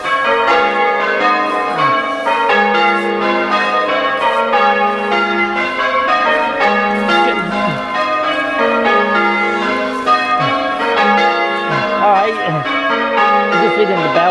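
Church bells of St Peter's, Kirkthorpe, pealing continuously during evening bell-ringing practice, overlapping strikes in a steady cascade, loud and close as if recorded near the tower.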